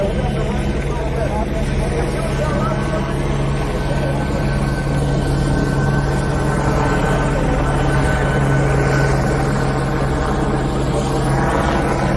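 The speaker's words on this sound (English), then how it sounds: "Bro, there's so much helicopters, bro." Several helicopters circle overhead above a street protest, a steady low rotor drone that fills the whole stretch at constant loudness, with crowd noise and voices talking over it.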